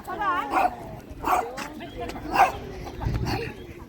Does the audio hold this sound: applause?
no